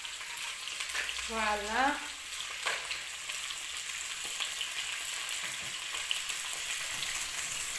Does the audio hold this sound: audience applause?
no